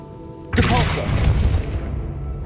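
A Depulso spell cast in the video game Hogwarts Legacy: a sudden loud burst that hits hard and then rings on as a sustained, textured rumble over low game ambience.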